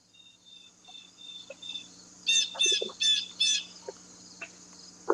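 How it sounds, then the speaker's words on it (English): A bird outdoors near a house in the woods gives a quick run of four sharp chirps, with faint insect buzzing and a few scattered ticks in the background. "I hear a bird."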